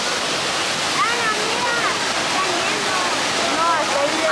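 Niagara Falls at the head of the Niagara River, a loud continuous roar of falling water filling the whole scene, with faint whistling or birdlike tones drifting over the steady rush.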